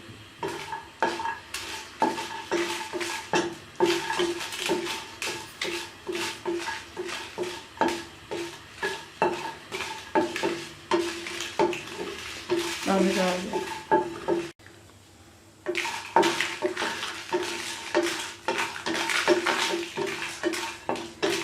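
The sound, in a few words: roasting whole red chillies and cashews in a frying pan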